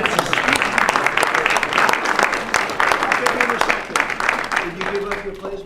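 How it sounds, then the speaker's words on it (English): Applause at a White House bill-signing event, a dense round of clapping from a crowded room, fairly close and loud, with voices talking and calling out over it. "Give her a round of applause."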